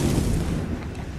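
A loud explosion in the pirate game Assassin's Creed IV Black Flag, a single broad booming blast with rumbling low end that stays dense and sustained for about a second before easing slightly.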